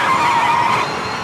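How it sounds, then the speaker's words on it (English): In the racing video game V-Rally 4, tires squeal in a high, sustained screech as an electric car slides through a corner, loud and close, tapering off after a second. "You can hear the tyres crying out for help."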